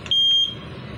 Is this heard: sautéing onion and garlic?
no